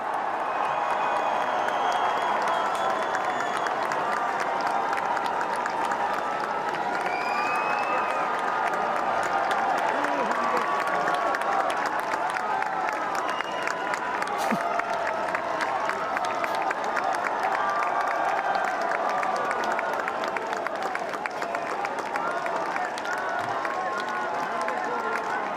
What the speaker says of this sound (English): let's hear the cheers